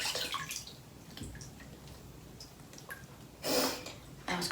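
Water sloshing and dripping in a home bathtub, soft splashes and drips coming in irregular bursts, close and quiet, with one louder swish of water near the end.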